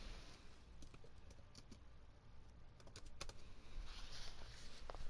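Someone types quickly on a computer keyboard while playing Overwatch, a steady patter of light, close key clicks with a few sharper taps, fairly quiet and with no talk over it.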